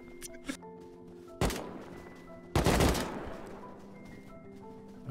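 Gunfire in the survival video game Rust, heard as two loud, sharp bursts of shots a little over a second apart, each trailing off into a brief decay over steady in-game background tones.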